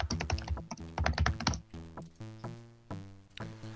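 Typing on a laptop's chiclet keyboard, with quick bursts of light, close key taps in uneven rhythm, then slower individual clicks.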